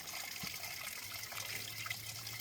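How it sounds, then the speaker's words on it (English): A small three-foot waterfall on a foothills trail near a Washington ghost town, heard as a steady, fairly faint rush and trickle of water with no talking. "Boy, it's a 3-foot waterfall."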